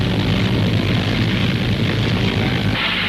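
A large propeller airliner taking off at an air show roars loudly and steadily at close range as it passes, its broad engine drone holding strong throughout.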